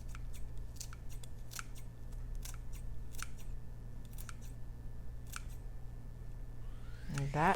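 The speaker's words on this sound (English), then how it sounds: "It's nice to cut basil with the scissors because it makes it easier than with a knife." Scissors snip fresh basil into a bowl in quiet, crisp, evenly spaced cuts, a dozen or so sharp clicks close to the microphone over a low steady hum.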